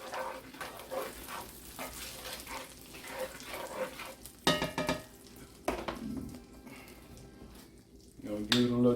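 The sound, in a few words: brown sugar melting into butter in a pan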